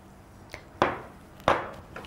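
Very soft, well-cooked sweet potatoes mashed in a bowl, two firm squelching presses with a few lighter taps between them, close and clear with no talking.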